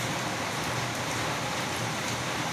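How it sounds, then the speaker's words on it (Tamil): Rain falls steadily outside a house, a dense, even hiss of drops with no pauses or voices. "மழை பெஞ்சிட்டே இருக்குது. சவுண்டு சட சட சடன்னு"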